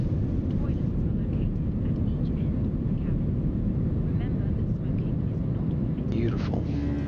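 A Finnair A320 climbs after departure in the Fenix A320 flight simulator, a steady low engine roar and rumble filling the whole stretch at even loudness, with faint voices beneath it.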